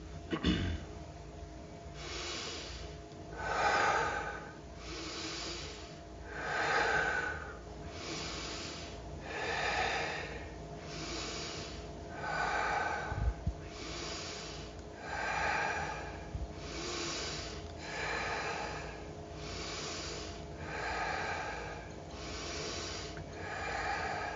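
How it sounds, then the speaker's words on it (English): Slow, deep meditative breathing repeats in a steady rhythm of about a dozen long inhale-exhale cycles, close and moderately soft, with no talking. "Let's take 10 breaths"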